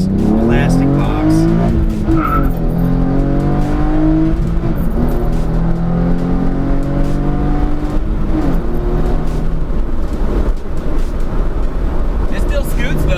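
A 2013 Hyundai Genesis Coupe fitted with an Injen intake pulls hard under acceleration, its engine note climbing through several rising gear sweeps with shifts between them, loud and close throughout, with occasional tire noise.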